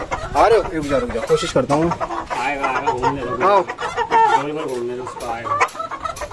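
Rooster clucking and squawking as it is chased and grabbed by hand in a chicken pen, loud agitated bird calls close by mixed with someone talking throughout.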